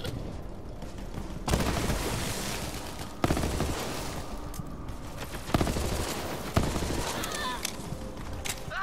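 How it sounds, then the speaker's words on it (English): A gun firing multiple bullets at once in Borderlands 3, producing loud, dense blasts with sharp onsets every second or two over continuous roaring shot noise, close and sustained with no talk. "it spits out like five bullets at once"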